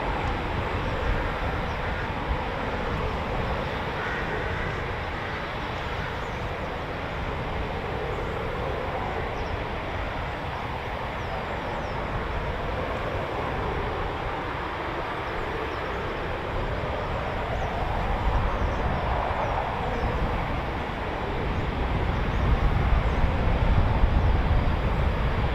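Distant rumbling roar of Eurofighter Typhoon FGR4 jets taxiing at an RAF station, a broad steady engine wash that swells slightly louder toward the end.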